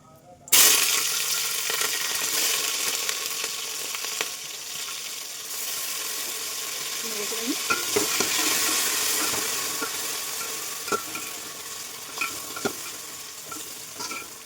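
Whole spices and grated ginger with green chilli hit hot oil in a pan for vegetarian khichuri, bursting into a loud, steady sizzle with scattered pops and crackles that carries on throughout, stirring clatters occasionally breaking through.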